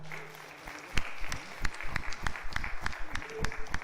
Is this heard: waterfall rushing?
no